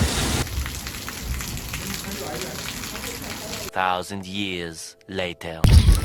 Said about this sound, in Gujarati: પાછો વરસાદ ચાલુ થઈ ગયો